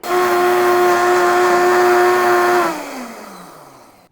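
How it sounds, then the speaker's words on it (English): A blender grinding oats into flour on high runs loud and steady with a high whine, then winds down as the motor slows to a stop. "I just put the oats into the blender and place it on high and grind them into a flour."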